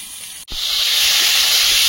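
Fish seasoned with turmeric and salt drops into hot oil in a pan: after a brief near-silent gap, a loud, close, broad sizzle erupts and holds steady to the end.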